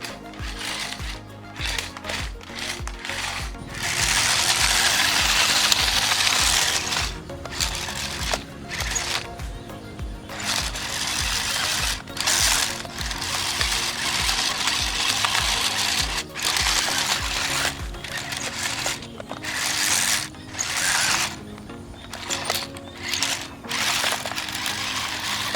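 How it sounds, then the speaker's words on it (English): A stunt roll RC toy tank racing on pavement in high-speed mode, its small motors giving off a fast mechanical whirr in rhythmic bursts and stops, close and fairly loud with no talking. "Wow, the high-speed mode is genuinely quick on the pavement."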